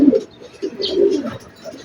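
A racing pigeon arriving home after a race gives soft, close cooing in a few short low phrases, with faint chirps in the background.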